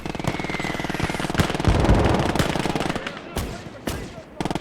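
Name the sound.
gunfire in a WWII video game battle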